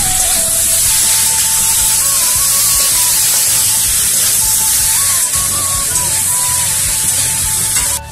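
Tomatoes sizzle in hot oil in a pan while chicken curry is being made, a loud, constant frying hiss that stays close and even from start to finish.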